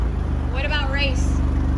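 A 2020 Alfa Romeo Giulia Quadrifoglio in race mode holds a loud, steady low engine hum from inside the cabin, with a brief voice-like sound partway through.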